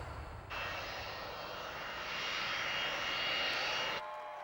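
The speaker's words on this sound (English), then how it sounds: "the world's first jet-powered passenger plane" Steady, faint jet engine roar from a de Havilland jet-powered passenger plane, an even broadband rush that begins abruptly, holds for about three and a half seconds, then cuts off.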